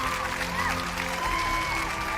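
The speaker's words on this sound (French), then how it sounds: "Merci de les applaudir," A talent show audience applauds the semifinalists, a dense, continuous round of clapping with a few faint cheers and a steady musical tone running underneath.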